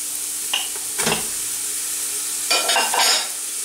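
Onion, chorizo and pork fry and sizzle in a big stew pot, with a steady hiss broken by a few clattering stirs near the start and end.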